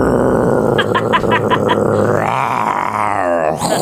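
A voice imitates a chainsaw with a harsh, growling rasp, first in a string of rapid revving pulses, then a long rising, straining drone that cuts off near the end, close and loud.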